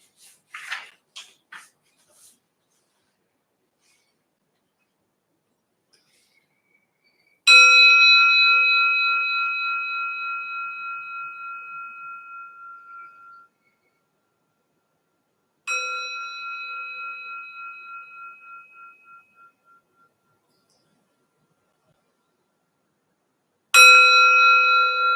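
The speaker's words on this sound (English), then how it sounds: "I will start with 3 invitations of the bell, and I will finish with 3 invitations of the bell" A meditation bell is struck three times at slow, even intervals during a loving-kindness meditation, each clear ring hanging and fading away into silence before the next, after a few soft taps at the start.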